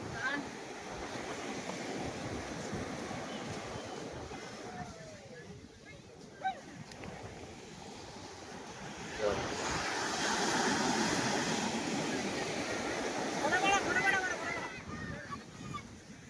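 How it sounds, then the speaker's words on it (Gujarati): Rough sea waves surge and crash onto the shore in a continuous broad roar that swells and eases, with voices faintly audible among the water noise. "મોટા ને મોટા મોજા આવો જો."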